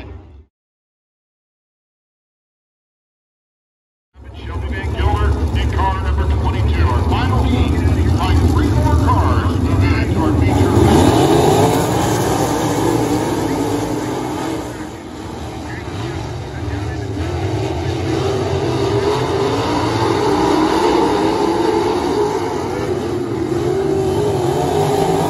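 Sprint cars roar past in a heat race at Lincoln Park Speedway, a dense, loud engine drone that swells and fades as the pack circles. It starts after a few seconds of silence and runs continuously to the end.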